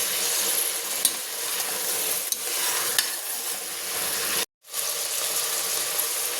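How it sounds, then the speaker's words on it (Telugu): Thinly sliced brinjal fries in a pan with a loud, steady hiss and sizzle and a few soft stirring clinks. The sound cuts out for a brief moment, then carries on. "ఒకసారి అన్నీ బాగా ఫ్రై చేసుకుందామండి."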